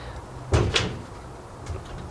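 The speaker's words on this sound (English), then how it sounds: "My back door slams" A back door slams shut twice in quick succession, fairly loud thuds close by, followed a second later by a fainter knock, with no talking.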